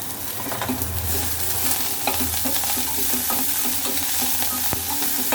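Onions frying with curry leaves and coriander leaves for a mixed vegetable sambar, a steady close sizzle with occasional stirring scrapes and clinks of a spoon against the pan, no voices.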